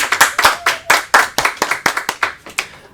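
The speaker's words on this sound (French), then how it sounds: "on peut applaudir très fort Kali" A small audience claps for a child named Kali on a French autumn-holiday television special; a dozen or so distinct, loud, close handclaps in an uneven rhythm, with no talk.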